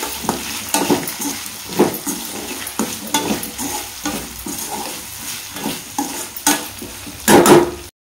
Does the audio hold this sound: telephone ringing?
no